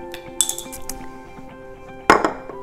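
Tablespoons of coconut flour are spooned into a bowl for keto bread, giving two sharp metallic clinks of spoon against the bowl about two seconds apart, close by, with quieter scraping between them.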